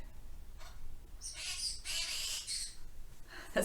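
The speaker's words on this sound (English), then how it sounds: "my bird" A pet bird calls indoors in a few bright, chirpy bursts of moderate loudness, with no one speaking.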